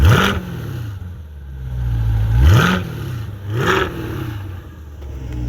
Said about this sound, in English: Let's get a little exhaust clip, folks, and see what it's made of.